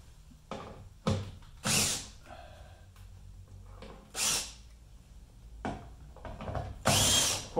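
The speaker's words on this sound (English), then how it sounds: "on my drill, and I chucked up a adapter for a 7/16 bit" A power drill fitted with a 7/16 socket adapter runs in short bursts, spinning bolts out of the firewall of a 1965 Thunderbird convertible during restoration, with ratcheting and clinking between pulls, close and loud.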